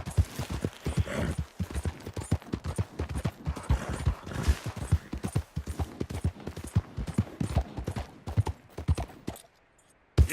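Horse hooves clip-clop at a steady trot through most of the stretch in Red Dead Redemption 2, close and rhythmic, with faint gunfire-like bursts mixed in and a brief quiet break near the end.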